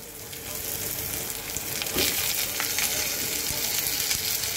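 Drumsticks (sajna) dropped into a pan of well-fried onions set off a steady, close sizzle with a few stirring clatters, with no talking over it.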